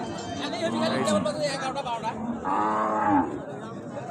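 At a crowded cattle market in Raniganj, thin, bony cows stand amid constant human chatter, and one cow lets out a clear, drawn-out moo near the microphone partway through.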